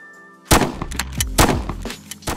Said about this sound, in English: For the shooting, I've added this nice particle system, a shooting sound effect, and this little recoil animation.